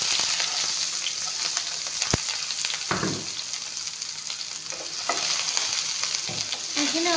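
Garlic and onion fry in a pan with a loud, steady sizzle, broken by scrapes and knocks of a spoon stirring every second or two, close up with no talking.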